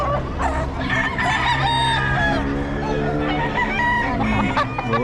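Roosters crowing repeatedly among clucking chickens at a poultry sale from Nueva Ecija, loud and close, with overlapping calls throughout.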